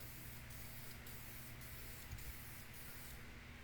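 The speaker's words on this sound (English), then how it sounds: "I'm going to be painting the block as well, or at least try to." An aerosol can steadily sprays paint onto a 1966 Oldsmobile Toronado engine block, a continuous close hiss that pulses faintly with each pass.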